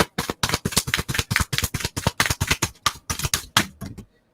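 A rapid, steady flurry of crisp oracle card riffles and snaps, close and fairly loud, continuing for several seconds before stopping.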